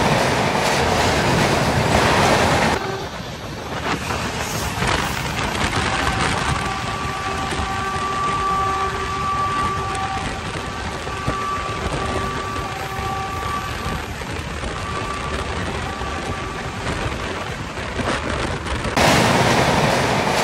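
Samata Superfast Express train 12808 running on its rails between Durg and Visakhapatnam, a steady loud rumble and clatter of wheels heard from on board, with brief squealing tones partway through and no talking.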